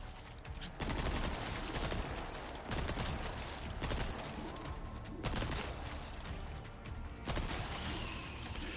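Gunfire in Resident Evil 4 Separate Ways rattles as a series of loud, close shot bursts spread across the stretch, each onset sharp, with dense action noise between them.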